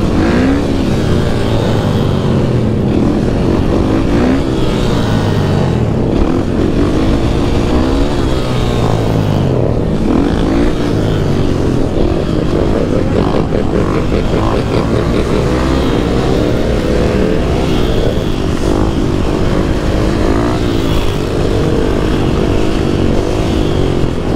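A motorcycle engine runs loud and close after a wheelie, a continuous rough drone with shifting revs throughout and no voices.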